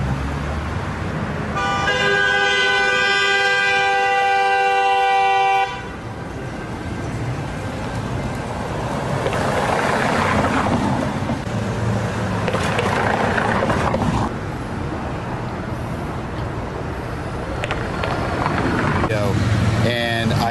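Afternoon rush-hour traffic near 6 o'clock at the Lima and Alameda intersection in Burbank, with a sustained car horn blaring for several seconds up close. Engines and road noise rumble on throughout, and voices come through briefly.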